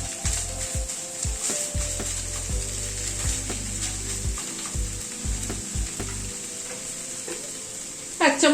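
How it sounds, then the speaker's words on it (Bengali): Fish frying in a pan and being stirred into spices, a steady bright sizzle with repeated scraping and clattering of the spoon against the pan, close and continuous. "এবার মাছটাকে দিয়ে দিচ্ছি। মাছটাকে দিয়ে মশলার সাথে মিশিয়ে নিচ্ছি।"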